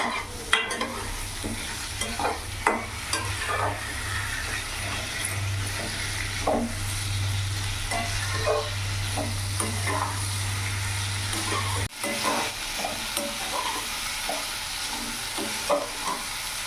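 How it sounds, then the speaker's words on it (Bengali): Chopped beans are stir-fried with spices in a pan: a steady, close sizzle with frequent scraping and clattering stirs throughout. A low hum sits underneath for most of the stretch before cutting out. "এই সময় কেটে রাখা বিনসটা আমি দিয়ে দিলাম কিছুক্ষণ নাড়াচাড়া করে কষিয়ে নেবো"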